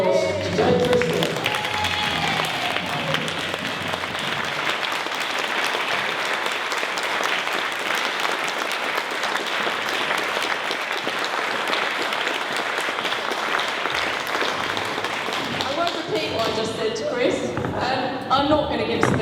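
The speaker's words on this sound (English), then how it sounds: "give a big round of applause to Jane Priston" A large audience at an Amy Johnson Day event in Herne Bay applauds steadily and loudly for close to twenty seconds, a dense even wash of clapping that thins near the end as a voice begins.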